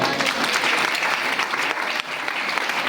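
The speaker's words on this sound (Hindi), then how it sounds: "एक बार जोरदार तालियां।" Enthusiastic audience applause at a Hindi-language gathering: a dense, continuous crowd of clapping hands that dips briefly near the end before carrying on.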